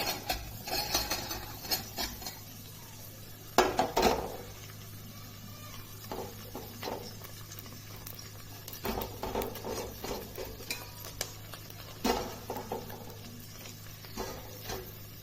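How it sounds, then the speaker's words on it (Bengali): Vegetables including cauliflower fry gently in ghee in a wok for Bengali leftover fried rice, with intermittent scraping stirs and faint clinks over a low steady hum. "ডিম ভাজার পর ওই কড়াইয়ের মধ্যেই একটু ঘি দিয়ে দিলাম তারপর আস্তে আস্তে সব সবজিগুলো আমি ভেজে নেব"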